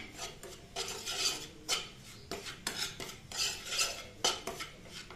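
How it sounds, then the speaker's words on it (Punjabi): Semolina being stirred with desi ghee for gulab jamun, a spoon scraping and rasping against the bowl in repeated gritty strokes, close and soft, with no voices. "ਚਮਚੇ ਦੇਸੀ ਘਿਓ ਦੇ ਪਾ ਦਿੱਤੇ ਨੇ ਆਪਾਂ ਨੇ ਤੇ ਇਹਨੂੰ ਹੁਣ ਆਪਾਂ ਮਿਕਸ ਕਰ ਲੈਣਾ"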